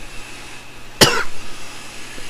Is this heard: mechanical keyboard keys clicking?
no